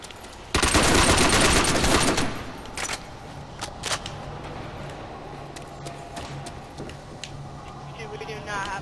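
Weapons fire in Call of Duty Zombies on the Nacht der Untoten map: a loud, dense burst of rapid automatic gunfire lasting about two seconds, followed by quieter game noise with scattered single sharp reports and faint voices.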